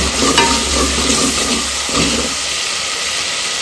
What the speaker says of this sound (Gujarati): જો મસ્ત મસાલો ભાઈ થઈ જશે તૈયાર મમ્મી ટમેટું નહીં નાખ્યું ભાઈ કારણ કે અલ્પેશને ટમેટું નહીં ખાવાનું એટલા માટે હવે નાખી દઈશું મગ